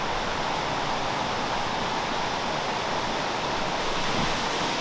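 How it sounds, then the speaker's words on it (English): A coastal waterfall on the Pacific coast gives a loud, steady, broadband rush of falling water, continuous and unbroken with no voices. "So I can hear the water."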